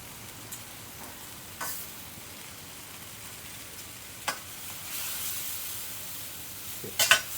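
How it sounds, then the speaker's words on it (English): Chicken pad kra pao with a spoonful of sugar is stir-fried in a pan, giving a soft, low sizzle broken by a few brief spatula scrapes, the loudest near the end. "And he's just moving it around in the pan."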